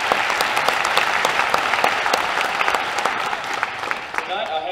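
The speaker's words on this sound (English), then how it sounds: "Give yourselves a round of applause." An audience at a senior honors night breaks into applause, a dense patter of many hands clapping at close range. The clapping holds steady, then thins slightly toward the end.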